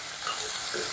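Chopped onions frying in hot oil for a soya keema curry, a steady close sizzle with faint stirring, no talk.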